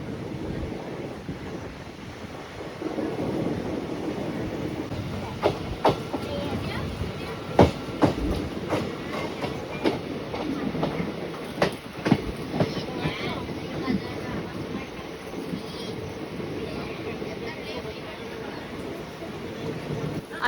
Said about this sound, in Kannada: ನಮ್ಮ ಟ್ರೈನ್ ನೋಡಿ ಯಾವ ರೀತಿ ಟರ್ನಿಂಗ್ ಆಗ್ತಾ ಇದೆ